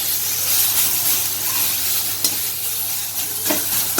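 Spice paste for a pointed gourd and prawn curry fries in oil in a karahi, a steady close sizzle with occasional scraping strokes of the stirring spoon against the pan.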